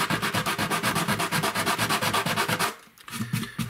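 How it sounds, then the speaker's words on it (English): Rhythmic scratchy strokes of sandpaper rubbing back and forth over the wooden body of an octave mandolin, steady and close, pausing briefly near the end before resuming. "give it a proper sanding"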